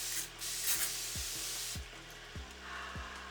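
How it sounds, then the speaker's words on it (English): Facial water mist sprays from an aerosol can in a continuous close hiss lasting a few seconds, steady with slight pulses, heard alone and fairly quiet. "So I'm going to spray this on before my primer."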